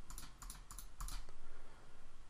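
Repeated mouse clicks in quick bursts while working through on-screen buttons in Articulate Storyline, close and crisp over a low steady room hum, with no talking.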